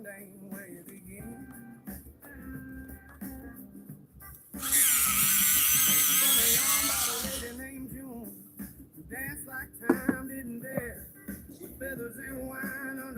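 A pencil grinds in a sharpener in a loud, rasping burst of about three seconds, between stretches of quiet music and talk.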